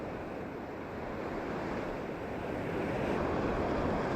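Waves crashing on the shore during a fishing trip form a continuous, even wash of surf and wind that swells slightly louder toward the end, with no voices.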